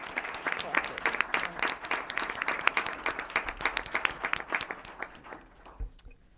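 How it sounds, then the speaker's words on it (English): An audience at a school board of education meeting applauds, a steady patter of many hands clapping at moderate distance, dense throughout and tapering off at the end. "Let's have an applause for all these great accomplishments."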